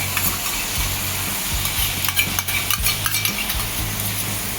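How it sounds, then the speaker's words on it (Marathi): Soybean and potato masala sautés in a pan while a spoon stirs and scrapes the pot. The sizzle is loud and steady, with repeated clattering strokes of utensil on metal and no talking. "1-2 मिनिटं परतून आपण दही टाकून घेणार आहोत"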